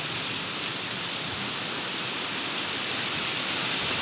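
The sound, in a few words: heavy rain falling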